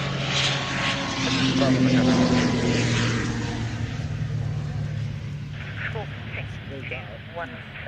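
An aircraft taxiing along the runway at the Royal International Air Tattoo 2022 air show, a steady droning engine and propeller hum with tonal whine, heard under people talking.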